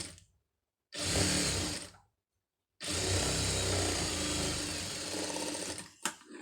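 A sewing machine runs in two bursts while stitching a quarter-inch folded fabric hem, a close, loud, steady whirring hum that stops between runs.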